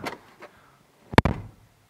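A single solid thud of a Daihatsu Hijet Jumbo light truck door shutting, short and close, following a couple of faint clicks.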